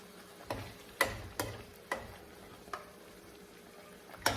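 Chickpeas cooking in a pan for Punjabi chana masala, giving a quiet, steady sizzle broken by sparse sharp pops and ticks spaced about half a second apart.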